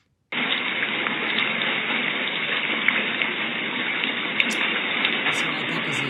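Steady broadband rush of creek water flowing, played from a white noise machine; it starts abruptly and holds at a constant, moderately loud level with faint splashy ticks throughout.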